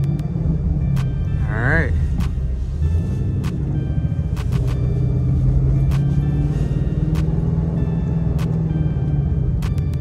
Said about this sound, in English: Let's get some downshifts in. First gear downshift.